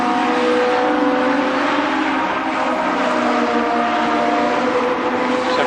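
Legends race cars at Columbus Motor Speedway roar down the front stretch in a pack, a steady loud blend of engine drone with sustained tonal whine and no break in the noise.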